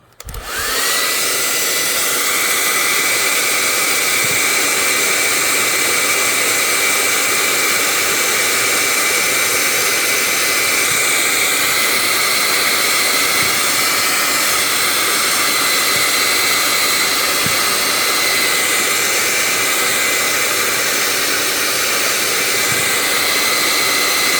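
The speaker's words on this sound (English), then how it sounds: "so I got a hairdryer" A hair dryer blows steadily at full power, a loud constant whoosh with a high whine, running without pause throughout.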